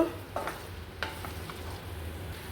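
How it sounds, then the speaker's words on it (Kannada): Fried paneer stirred into chilli sauce in a hot pan, with a soft steady sizzle and a few scraping spoon strokes, close and quiet. "ಸಾಸ್ ಜೊತೆ ಪನ್ನೀರ್ ಚೆಂದ ಮಿಕ್ಸ್ ಆಗಬೇಕು."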